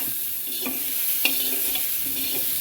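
Curry leaves fry and crackle in a pan while being stirred, a steady hiss with a few light scraping strokes and a small clink, close and without voices.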